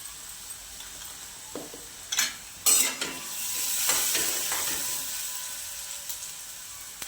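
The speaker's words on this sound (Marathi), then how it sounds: "आता हे परतून घ्यायचं आहे" Garlic, ginger and green chili paste sautéing in a pan for potato vada filling, giving a soft steady sizzle with a few sharp stirring scrapes and clinks of the spoon close by; no one speaks.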